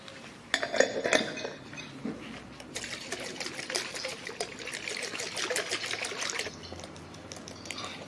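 Liquid detergent is shaken in a container, producing sloshing, splashing liquid with light clinks against the vessel, in uneven bursts that fade out near the end.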